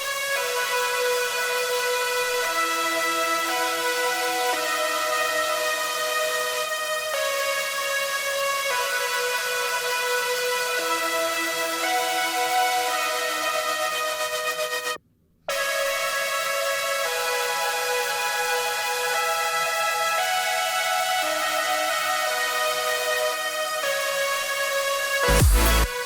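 Synth chord parts stacked with harmonies, sustained bright tones shifting every couple of seconds in a steady looping progression, with a brief dropout midway and no voices.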